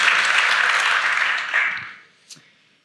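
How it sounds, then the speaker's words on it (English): Audience applause welcoming a panel at a tech conference, a dense burst of clapping from a crowd that tapers off after about two seconds, followed by a few stray claps. "Big applause, please."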